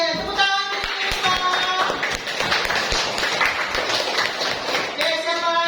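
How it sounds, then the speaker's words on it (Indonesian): A classroom of students claps for a classmate, a burst of close, dense hand clapping that lasts several seconds between short stretches of talk at the start and end. "tepuk tangan untuk Siva"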